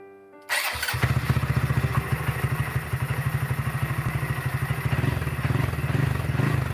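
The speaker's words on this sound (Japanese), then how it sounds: "緊張のエンジン始動です。" A Honda Grom motorcycle with a 181cc bore-up, freshly reassembled after a rebuild, is quiet at first. Its engine then fires up loud and close and settles into a fast, steady, throbbing idle.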